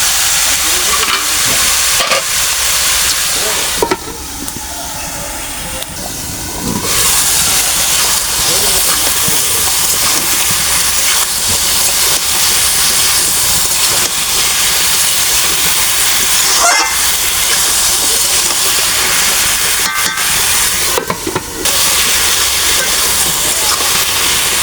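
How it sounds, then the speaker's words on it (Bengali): Spices, tomatoes and vegetables sizzle loudly in a hot pan, a steady frying hiss with occasional scraping and stirring. "ভালোভাবে মশলা তরকারিগুলো কষিয়ে নিচ্ছি"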